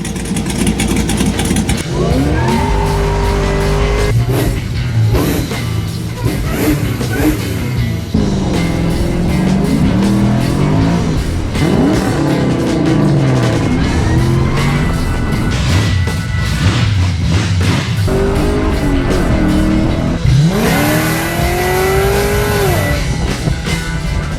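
The 1969 C10 truck with an LS swap, fuel injection and open exhaust cutouts roars loud and close, revving and climbing repeatedly through the whole stretch.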